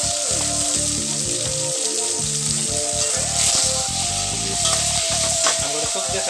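Green chili and tomatoes fry in a pan for an Indian meatball curry, with a loud, steady sizzle and stirring throughout and music playing underneath.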